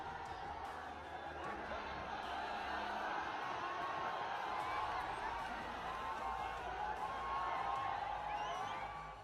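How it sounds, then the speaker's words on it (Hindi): A large crowd cheering Chirag Paswan at the Chauharmal fair, a dense sustained roar of voices and whoops heard from a distance and holding steady throughout. "एक तरफ हजारों की भीड़ ने चिराग पासवान का भव्य स्वागत किया"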